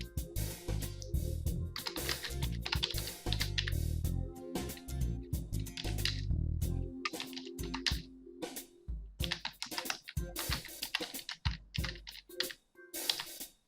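Text is typed on a computer keyboard in continuous fast bursts of close, crisp keystrokes with short pauses, a low hum underneath for the first several seconds and no voice.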